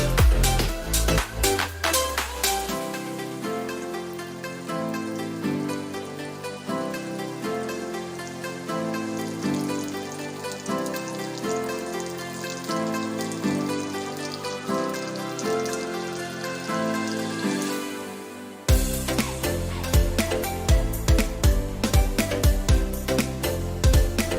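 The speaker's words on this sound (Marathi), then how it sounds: "तुकड्याच्या साईडनी पण फ्राय करून घ्यायच्या आहेत" Pieces of black pomfret (halwa) fish frying in a pan, making a dense, continuous crackling sizzle that stays steady and close throughout, dipping briefly before surging back.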